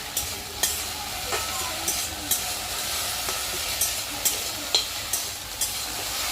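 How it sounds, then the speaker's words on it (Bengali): Okra frying in a pan gives a steady sizzle, with regular stirring scrapes spaced through it; close and fairly loud, with no talking. "এই যে ভেন্ডি ভাজা হচ্ছে আমাদের"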